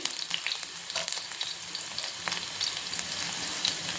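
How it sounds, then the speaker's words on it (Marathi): Garlic fries in hot oil, a soft but continuous close crackle and spit with tiny popping bursts throughout, heard alone. "तेल गरम झालं की नंतर त्यामध्ये लसूण घालायचा आणि लसूण थोडासा लाल झाला की"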